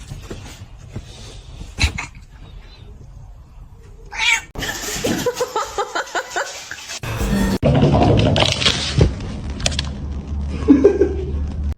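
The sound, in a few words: cat meowing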